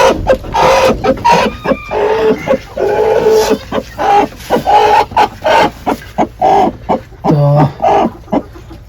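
A fighter-breed hen brooding on a duck egg and a chicken egg clucks close by in a steady run of short, throaty calls, with a brief higher call near the end.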